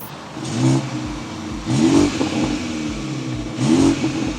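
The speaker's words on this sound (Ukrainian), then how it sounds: "Зараз вам покажемо, як звучить тут вихлоп." A BMW 330 G20 exhaust revs three times, each a loud rising roar that falls back to a low burbling idle, close by.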